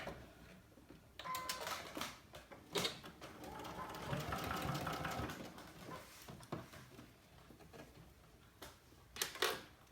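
A sewing machine stitching a knit Henley neckband, a fast mechanical whir in a short burst, then louder sustained running for a few seconds, with clicks and handling noises around it.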